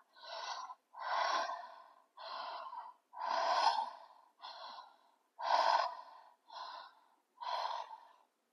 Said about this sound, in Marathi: इथेच 5 उज्जय ब्रेथ्स करूया. उज्जय ब्रेथ तोंडाने श्वास घ्यायचा आणि सोडायचा असा.